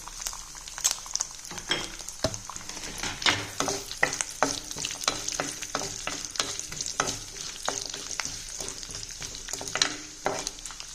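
Ghee stirred into banyard millet (kuthiraivali) pongal in a pan, with a steady sizzle under repeated scraping stirs of a spoon, close and moderately loud, no voices.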